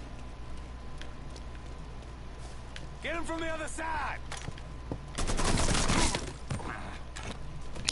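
AK assault rifle fire in Mafia III comes as a short, dense rattling burst late in the clip. Quieter game sounds and a brief voice come earlier, all at fairly low level.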